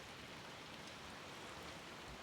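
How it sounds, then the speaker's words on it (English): Big raindrops pour down steadily during a thunderstorm with lightning and wind, a dense, even wash of rain noise filling the clip without pause. "Got some big raindrops coming down, lightning, thunder,"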